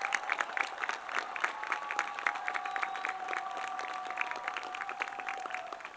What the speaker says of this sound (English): So can you all clap for your teachers?